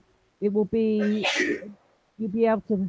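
A single sharp sneeze bursts out close by between stretches of casual conversation, with people talking right before and after it.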